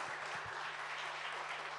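Children clapping for a guest of honour at a school reading event, a dense steady burst of applause filling the short moment, fairly close and even, with no talk over it.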